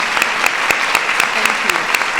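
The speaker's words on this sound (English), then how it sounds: "so we can give them a round of applause" An audience at a White House event honoring women in the military claps for standing guests and their spouses: brisk, full applause with sharp nearby claps standing out from the crowd.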